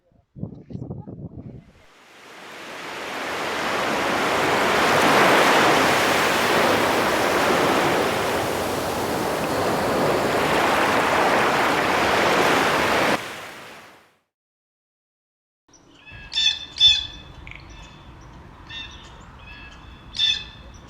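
Sea waves seen from a railing: a loud, sustained surf roar builds and holds for about ten seconds, then fades out, followed by a pause and a few sharp bird squawks.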